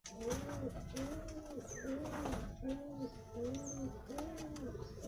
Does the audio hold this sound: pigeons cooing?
yes